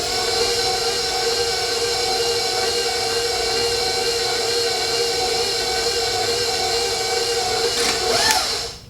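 An electric stand mixer runs continuously while mixing cinnamon roll dough, a steady loud motor whir with a brief rising whine near the end.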